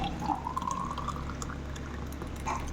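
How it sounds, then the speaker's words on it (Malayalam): A cashew cocktail pours steadily into a glass, a rising gurgle over a low constant hum, close and fairly quiet with a few light clinks. "അതിലേക്ക് ഒഴിച്ചു കൊടുക്കാം"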